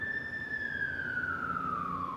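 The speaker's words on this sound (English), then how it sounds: "There's a siren, so I'm gonna wait a little bit." A single emergency siren wails through a San Francisco street, one long tone sliding slowly downward as it passes, clear and fairly close over steady low traffic rumble.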